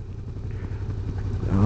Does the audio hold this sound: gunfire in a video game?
no